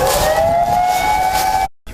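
A warning siren sounds amid tsunami and nuclear meltdown alarms, holding a steady, loud, piercing wail for nearly two seconds before cutting off abruptly, with a faint hiss resuming afterward.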